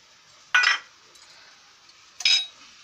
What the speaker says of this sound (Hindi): एक चम्मच डाल रही हूँ मैं इलायची पाउडर